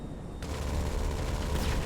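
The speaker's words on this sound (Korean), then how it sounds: "이제 폭발성 MG 갖다가 탱크를 한번 터쳐볼게요" Explosive machine gun fire from a B-11 Strikeforce jet in GTA pounding a tank, a dense continuous roar of rapid blasts starting abruptly and holding loud and close to the end, no talking.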